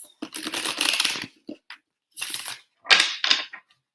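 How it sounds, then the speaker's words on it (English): A deck of tarot cards is shuffled close up in uneven bursts, with riffling, flapping card sounds separated by short pauses, no talking. "One more shuffle for Cancerians."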